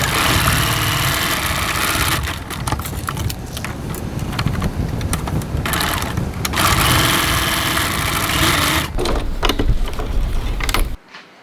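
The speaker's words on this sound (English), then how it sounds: "I'm just going to stitch all the way from top to bottom, or bottom to top, whichever way you've placed it on your machine" Sewing machine stitching the sides of a wallet, a loud steady motor whir running almost without a break, its tone shifting slightly as the stitching goes on, and stopping abruptly at the end.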